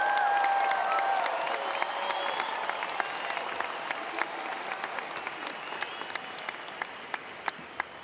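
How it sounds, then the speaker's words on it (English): Graduation ceremony audience breaking into loud, sustained applause that gradually thins out, with scattered individual claps standing out near the end in a large hall. "Big round of applause."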